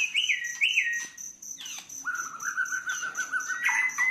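A caged Medan-type songbird sings nearby in a run of bright, rising and sliding whistled phrases with chirps, fairly loud and clear over a faint steady background, with no talking.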